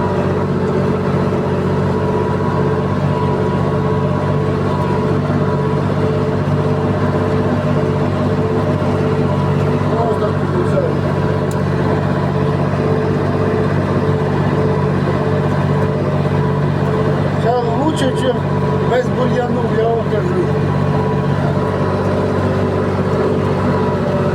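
A Solis 50 RX tractor's engine drones steadily while it pulls a Kverneland plough through a field, a constant mid-pitched hum with only faint clicks on top.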